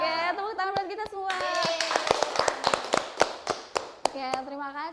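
A classroom group claps along in sharp, uneven handclaps for several seconds, with children's voices talking and calling over the applause.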